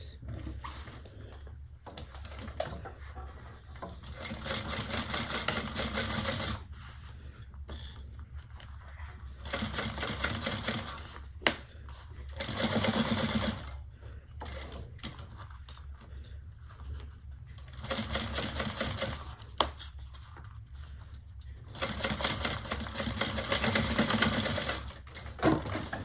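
A sewing machine stitches a bag seam at a 3/8-inch allowance, running in several close, steady bursts separated by short pauses, with faint handling clicks and no talking.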